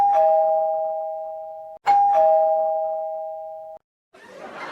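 A cartoon doorbell rings twice in a row, each a sharp electronic chime that holds a steady tone and fades, then a short burst of noise follows.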